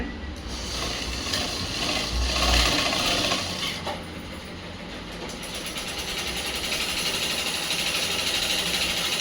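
A sewing machine stitching blouse fabric, running as a continuous close mechanical whir with slight shifts in speed and no pauses, with no talk.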